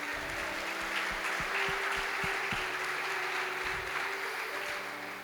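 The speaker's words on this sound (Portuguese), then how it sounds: "Você pode aplaudir Jesus por isso?" Church congregation clapping during a sermon, a soft, distant wash of applause lasting several seconds, with a few low thumps underneath and a steady hum in the hall.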